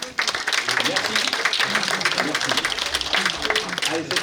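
A seated audience at a dance association's general assembly claps in a dense, continuous burst of applause that fills the whole moment, with voices mixed underneath.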